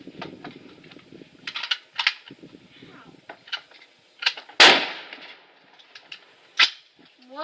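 Gunfire at the Axtel gun range: several sharp, loud single shots crack out at irregular intervals, with quieter clicks and handling noises and murmured talk between them.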